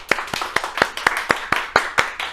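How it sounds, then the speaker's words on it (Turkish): A lone person claps at a steady, even rhythm, about ten sharp close hand claps in quick succession with nothing else around them. "Bir alkış."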